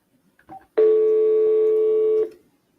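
A telephone call to a number that is not in service: after a couple of faint clicks, one loud, steady electronic tone sounds alone for about a second and a half, then cuts off.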